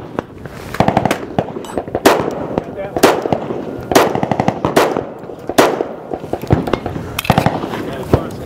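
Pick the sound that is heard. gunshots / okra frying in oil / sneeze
gunshots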